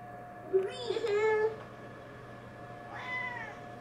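A pet cat meows near a toddler's crib at home, one drawn-out nearby meow followed by a shorter, higher second meow after a pause, over a steady household hum.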